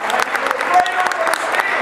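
An audience at a United Way victory celebration applauds the stars of a video with a steady, fairly loud burst of clapping that lasts the whole short moment, with some voices mixed in.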